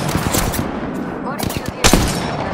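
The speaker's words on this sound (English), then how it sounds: "Shots fired at me." Gunfire in the battle game Apex Legends crackles in short, close bursts of rapid shots, with a heavier blast near the end.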